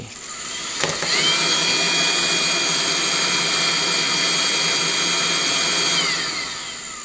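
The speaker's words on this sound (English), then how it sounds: "Fuel pump pumps a little bit. Fan is speeding up." A Webasto Thermo Top C/Z diesel parking heater starts, whirring up to a steady loud roar as its fan spins faster, with a faint rhythmic ticking of the fuel pump underneath, close by.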